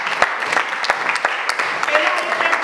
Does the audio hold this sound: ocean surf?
no